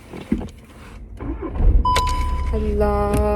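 A manual gear-stick car's engine turns over and starts at close range, with a rising whine and then a steady idling hum holding to the end, after some faint shuffling and clicks.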